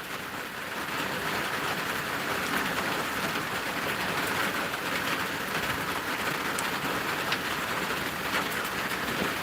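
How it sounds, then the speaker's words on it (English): Rain falling steadily, heard while parked by a dirt road during a long downpour, a dense continuous hiss of drops on surfaces, fairly loud and even throughout with no talk. "But it's still raining"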